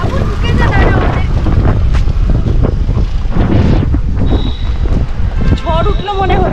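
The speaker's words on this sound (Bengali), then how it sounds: "বাইরে হাওয়া দিয়েছে, কিরে ঝড় উঠলো নাকি?" Strong storm wind blowing outdoors, a loud continuous gusty roar buffeting the microphone while people talk through it.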